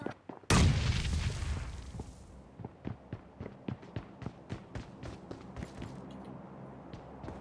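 A grenade blast in the video game PUBG Mobile, one loud close explosion with a long fading rumble, followed by a rapid string of evenly spaced gunshots that gradually grow fainter.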